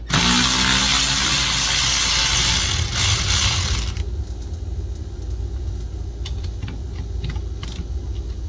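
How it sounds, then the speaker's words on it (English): A ratchet wrench loosens the two 5/16 anode bolts on the lower unit of a Johnson 40HP outboard. Dense, loud clicking runs for about four seconds, then gives way to a quieter background with a few sparse clicks. "remove the anode, which is going to be the two 5/16 bolts to the left and right"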